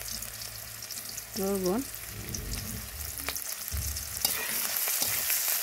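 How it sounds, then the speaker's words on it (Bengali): Onion, green chilli, sauce and chilli powder sizzle and fry together in a pan, a loud continuous crackle broken by stirring scrapes, while a voice speaks briefly over it. "দিয়ে মশলা কষে নিব।"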